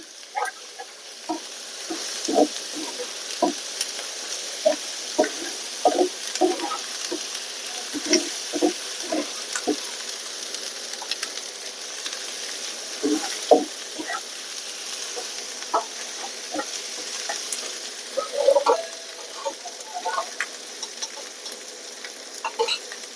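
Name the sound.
ginger and garlic frying in pan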